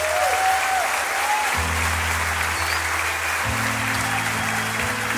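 A church congregation claps continuously, a steady wash of applause held throughout, with a low sustained musical tone playing underneath.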